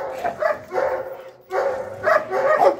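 A dog barks and yips repeatedly at close range during a training session, in bursts across the whole stretch, with the trainer's voice mixed in at points.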